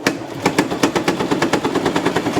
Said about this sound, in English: You can hear how hard it's working because it's trying to penetrate through all that cloth